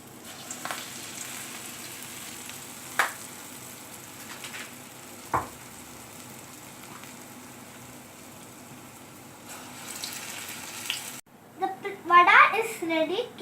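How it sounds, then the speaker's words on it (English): Vada deep-frying in hot oil gives a steady, soft sizzle throughout, with a few brief clinks of utensils; a voice speaks near the end. "Next, deep fry the VADA."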